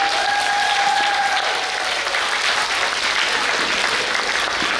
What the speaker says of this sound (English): Let's give everyone a round of applause again.